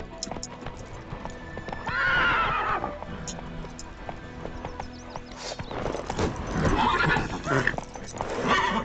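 A horse in The Witcher video game gallops with rapid hoof clip-clops and lets out loud neighs, close and prominent, while someone talks over it and a voice urges the horse on.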